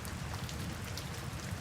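Rain falls steadily and evenly, a dense close patter with no other sound standing out.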